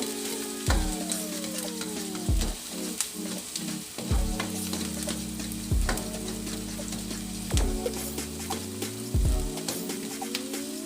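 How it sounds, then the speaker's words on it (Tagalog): Onion sautés in a hot pan with a steady, close sizzle and frying crackle, broken by repeated scraping stirs of a utensil against the pan. "Isautein muna natin ang ating onion."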